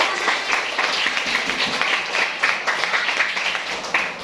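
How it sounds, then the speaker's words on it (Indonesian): Students and audience in an Indonesian classroom lesson clap together, a lively patter of many hands over several seconds with some chatter and voices beneath. "tepuk tangan buat para detik."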